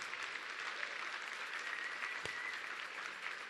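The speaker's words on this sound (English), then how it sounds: "let's give them a big round of applause" An audience at a talk gives a round of applause, steady, even clapping that fills the whole stretch, heard somewhat faint and distant, with no speech over it.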